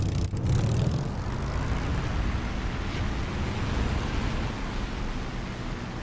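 A Spitfire's piston engine inside the DCS flight simulator drones as a steady, loud, broadband roar throughout, with a brief low swell near the start and no voices.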